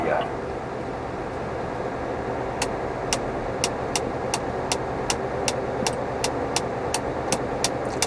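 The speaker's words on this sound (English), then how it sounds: "just coming up on the winch" A Terex Demag 2800-1 crane winch hoists with a steady mechanical engine drone, punctuated by a regular ticking or clicking that repeats about twice a second, close and continuous.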